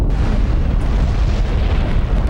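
The atomic bomb explosion at Hiroshima is heard as a continuous, heavy, rumbling roar that stays loud and dense throughout with no pause.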